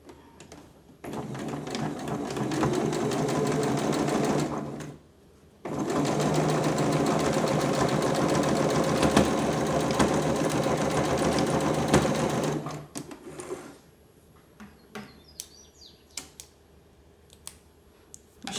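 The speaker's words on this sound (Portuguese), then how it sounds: "eu já venho aqui na minha máquina, faço a bainha." Sewing machine stitching the hem of a cloth dishcloth, running in two long steady bursts with a brief pause between, then stopping, followed by faint scattered handling clicks near the end.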